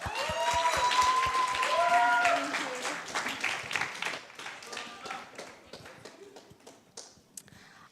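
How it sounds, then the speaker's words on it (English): An audience at an entrepreneurship challenge grand final gives a round of applause, dense clapping that swells, then thins into scattered claps as it fades, with voices speaking over the start. "Let's give them a round of applause."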